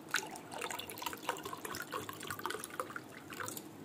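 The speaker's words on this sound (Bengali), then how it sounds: "এবার এতে একটু মেশাবো ঠান্ডা জল, এবার ঠান্ডা জল দিচ্ছি" Cold water pours steadily into a mint paste drink, a faint, close liquid splashing and trickling with no talk.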